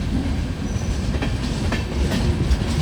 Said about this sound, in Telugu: మన ట్రైన్ వచ్చేసి ఆన్ టైంకి వచ్చేసింది